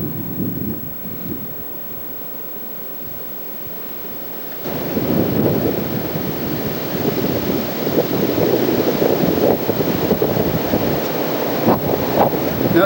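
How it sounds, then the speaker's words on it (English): Strong wind from a bombing winter storm bringing heavy wet snow roars and buffets against the microphone, growing louder and rougher partway through and holding steady. "it's also very windy now that this storm has really bombed"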